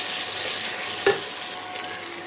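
Spice masala for a jackfruit kaliya sizzles steadily in a pan while being stirred after a sprinkle of sugar, with one sharp clack of the spoon midway.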